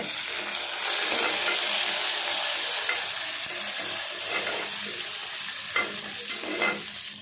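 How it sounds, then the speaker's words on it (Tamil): Biryani masala with a handful of mint sautéing in a pan, a steady loud sizzle and frying hiss with occasional stirring scrapes near the end. "அந்த பச்சை வாசனை போகிற வரைக்கும் நல்லா வதக்கிக்கோங்க"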